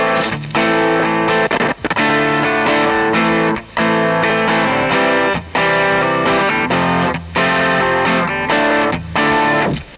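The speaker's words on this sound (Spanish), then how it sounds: "yo aquí tengo un preset de Guitarrig, uno muy simple, simplemente una distorsión muy sencilla para grabar lo que me interesa y vamos a escucharlo" Electric guitar played through a simple Guitar Rig distortion preset, loud, dense overdriven chords ringing out in sustained phrases with brief gaps between them, no voices.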